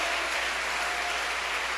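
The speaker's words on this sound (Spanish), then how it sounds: "Aplauda la gloria del Dios de los cielos" A church congregation applauds together during an evangelist's sermon, a steady dense wash of clapping that holds evenly throughout at moderate loudness, with no voices over it.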